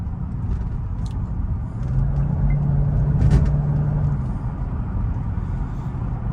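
A Mercedes-Benz SL500 fitted with coilovers accelerates on the road, heard from inside as a steady low engine and road rumble that swells slightly midway, with a faint tonal drone.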